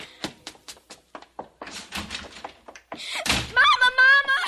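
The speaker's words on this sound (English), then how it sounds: "Margaret, haven't I told you not to slam the door?" A door slams shut in a radio drama: quick running footsteps lead to a loud, hard thud, followed at once by a girl calling out.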